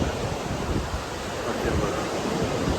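Steady wind rushes past the microphone near the Chunchanakatte waterfall, a broad, continuous roar with gusty low-end buffeting throughout and no voices.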